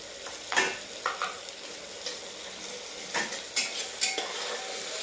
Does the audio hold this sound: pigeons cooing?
no